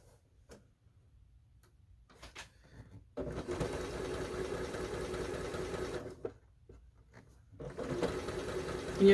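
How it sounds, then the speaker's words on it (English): A sewing machine runs in steady bursts with a rapid mechanical chatter, stopping and starting between runs, close by with no talking. "I have my sewing machine so slowed down so I can be more accurate"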